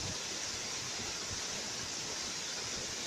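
Waterfall in India pouring steadily, a dense, unbroken rushing roar of falling water that stays constant and close throughout, with no voices.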